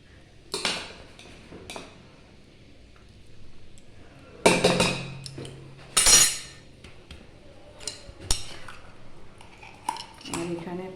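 Hot rice is served onto a plate with metal utensils, giving scattered sharp clinks and scrapes of cutlery against dishware amid quiet pauses, with a few louder clatters.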